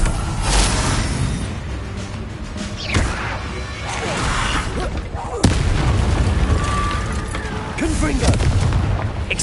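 Confringo blasting spell in the Hogwarts Legacy game going off in a chaotic fight, with repeated booming bursts and crashing impacts over a dense battle din, spells hitting every couple of seconds, punctuated by a shouted voice.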